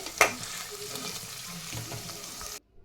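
Cubes of paneer sizzle and fry in a pan while being stirred, a steady close crackling hiss with a sharp metallic clink early on, then cutting off abruptly to silence.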